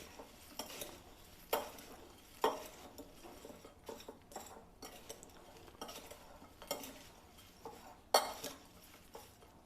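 Bhel puri ingredients are stirred and tossed in a bowl with a spoon, giving quiet, close scraping and clinking strokes in an irregular rhythm, with no talk.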